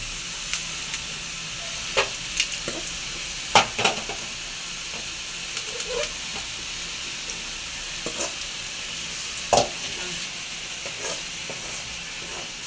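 Onions sauté for sambar with a steady close sizzle and hiss in the pan, broken every so often by sharp clicks and scrapes of stirring, and no voices.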